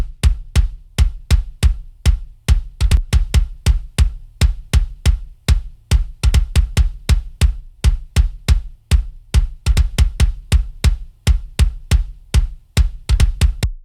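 Kick drum hits repeat in a steady, punchy pattern across the whole stretch, first dry and then with the Spark Kick Joy compressor preset engaged for a tighter, slappier thump; no voices.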